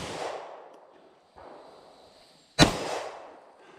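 Pistol shots at an outdoor action shooting stage aimed at 6-inch steel plates from 15 yards; two sharp reports, the second much louder and closer, each trailing into a rattling ring.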